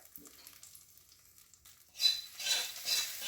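Mustard seeds are dropped into hot oil to temper a curry, bursting into a sudden bright sizzle and crackle after a quiet start, heard close and without talk.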